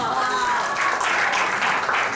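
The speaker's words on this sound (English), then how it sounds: "can we give them a round of applause, please?" An audience at a business presentation gives a round of applause, a steady wash of many clapping hands at moderate volume, with voices mixed in beneath it.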